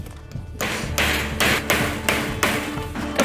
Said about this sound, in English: pound it in lightly with a hammer or rubber mallet